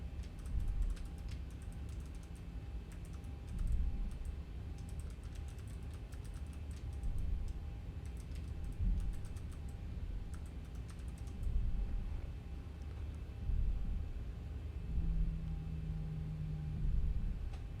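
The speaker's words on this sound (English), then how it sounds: "Type that in." Computer keyboard typing during a live X-Plane 11 flight simulator session with a Boeing 737-800, steady clusters of key taps at close range, with soft background noise and no talk.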